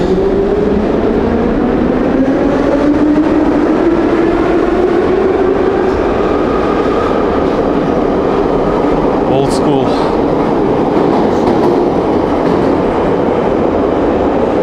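A loud, continuous rumble of an old August 1976 metro car, type Em-508T, rolling along rails, with a rising whine, rhythmic clatter and a brief spoken remark.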